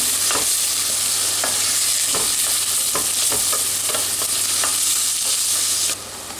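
Vegetables, lightly salted, stewing and frying in a pan, a steady close sizzle with occasional stirring clicks and scrapes throughout.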